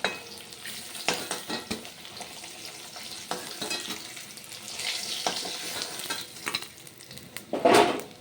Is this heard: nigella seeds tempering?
yes